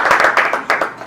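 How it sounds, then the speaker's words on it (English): Applause from an audience at a talk by a reporter, heard as short irregular bursts of clapping that swell and fade over about a second, fairly close and loud. "So, nice big round of applause for Pam Calder with the super organized reporter."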